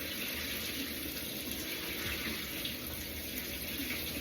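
Hot water runs steadily from a kitchen tap, a constant, fairly quiet hiss and splash with no break and no voices.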